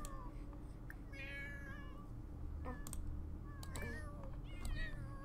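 Cat meows in a life-simulation video game, several short game-style mews with a steady background music bed and faint clicking throughout.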